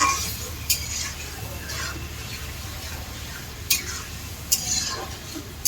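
Chopped vegetables are sautéed in butter in a pan for pav bhaji, heard as a low continuous sizzle with occasional sharp clinks of a utensil against the pan, close and moderately quiet.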